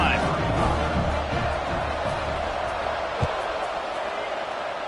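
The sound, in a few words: football stadium crowd cheering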